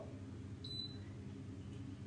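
A hair curling tool gives a single short, faint electronic beep over a low, steady background hum.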